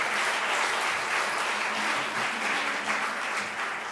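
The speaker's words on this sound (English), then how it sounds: "And that deserves a round of applause." A crowd claps steadily and loudly for several seconds, a dense, sustained round of applause.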